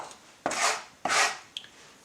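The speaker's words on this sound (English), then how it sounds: "you get the front of the knife and push it down, and you'll see that it starts to turn into a paste" A knife blade scrapes and presses garlic against a board, crushing it to a paste: two broad, rasping strokes close up, followed by a faint tap, with no talk.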